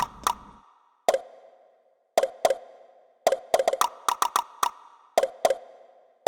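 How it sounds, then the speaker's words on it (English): A ticking clock beat in an Incredibox music game mod: crisp, evenly spaced tick and knock clicks with a soft tonal ring, falling into an irregular syncopated rhythm, close and fairly loud. "Clock is ticking."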